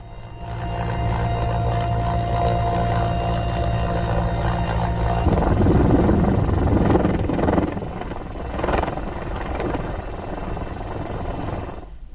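Rescue helicopter dropping food packets over flooded rooftops, its steady rotor and engine drone running loud and continuous throughout, with the tone shifting midway as the craft moves.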